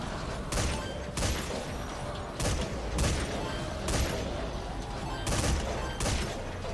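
Mortars fire in the video game Metal Gear Survive, a series of about nine sharp booming blasts at irregular intervals of roughly half a second to a second, loud over a constant noisy background, with no talk.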